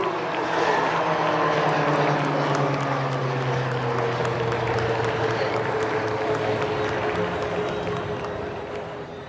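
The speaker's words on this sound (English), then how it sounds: "is the HTT-40 aircraft for the first time ever in an aerial display" An HTT-40 trainer aircraft flying an air show display over Marina Beach in Chennai, a loud sustained propeller drone with shifting pitch amid a crowd murmur and public address.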